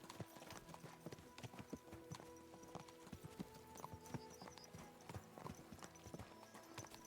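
Video game horse hooves clip-clop in a steady, brisk rhythm, close and fairly quiet, with a continuous background ambience.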